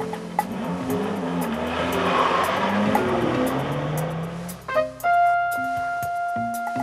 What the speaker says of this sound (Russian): Вот садится в машину, уезжает.